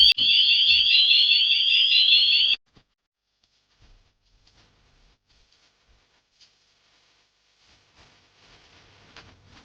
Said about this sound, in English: I'm going to activate the alarm, open the door, and it should start blaring